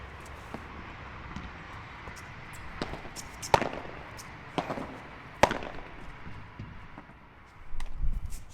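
Squash volleys struck on court send a handful of sharp, echoing ball and racket cracks against the walls at irregular intervals over a quiet background.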